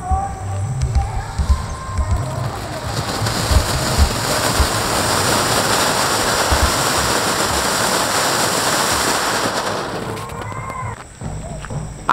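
A steady, loud hissing and crackling roar of a shower pot firework burning for several seconds, fading near the end.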